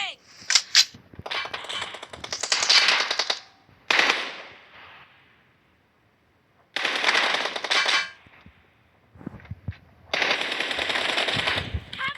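Rapid bursts of machine gun fire in a video game, several separate volleys with pauses between, crisp and close, with brief voices in between.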